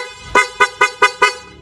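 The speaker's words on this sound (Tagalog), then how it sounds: "Kahit patay yung makina mga sir, napakalakas ng tunog ng busina." A loud stock horn on a Suzuki Raider 150 carbureted motorcycle with the engine off, honked in five quick, evenly spaced bursts close to the listener.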